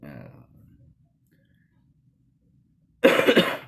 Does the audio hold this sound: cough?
yes